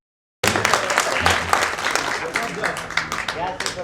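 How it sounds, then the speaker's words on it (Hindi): Audience applause breaks out at a Hindi comic poetry gathering, a dense, steady wash of clapping that starts abruptly and keeps going without letup, with some voices mixed in among the crowd. "एक बार जोरदार ताली।"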